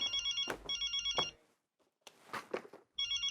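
A telephone rings repeatedly on an outgoing call, giving bursts of electronic trilling. Rustles and brief sounds fill the gaps between the rings, and the trilling comes back at the end.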